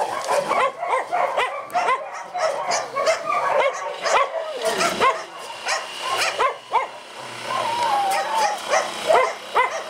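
Young puppies in a shelter enclosure yip, bark and whimper in a busy, overlapping chorus close by, with bursts of higher whines between the barks.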